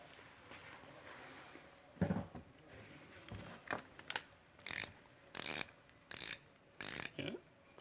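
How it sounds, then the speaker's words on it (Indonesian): A Multipro single-gear ratchet wrench clicks in a series of short, sharp bursts, starting with faint ticks and building to four louder, evenly spaced ratcheting runs near the end, with no talk. "Kita akan coba untuk menguji dari ratchetnya atau dari ratchet yang single gearnya ini."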